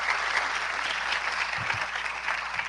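An audience applauds at a biodiversity summit in Guyana, a steady, even round of clapping from a large hall that holds at moderate level throughout the short clip.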